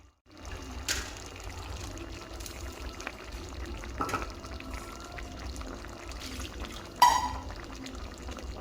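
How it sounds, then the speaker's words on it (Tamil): Coconut milk pours into a bubbling, simmering pigeon pea and potato kurma, with a continuous soft sizzle and occasional clinks of a utensil against the pot. "இப்போ தேங்காய் ஊற்றிக்கலாம்."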